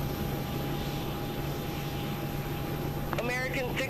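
Jet engines of a PMDG 737 in Microsoft Flight Simulator 2024 hold a steady, even drone with a faint tonal whine throughout, and a voice briefly speaks over it near the end.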